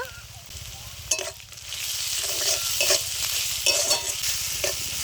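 Ginger and garlic fry in a pan, a close, constant sizzle broken by several distinct scraping strokes of a spoon stirring against the pan, with no talking.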